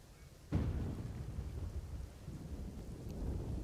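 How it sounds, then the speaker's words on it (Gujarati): Heavy monsoon rain pours steadily over Ahmedabad, with a sudden close thunderclap early on followed by a long rolling rumble beneath the dense hiss of rain. "અમદાવાદના અલગ અલગ વિસ્તારોમાં વરસાદ વરસી રહ્યો છે"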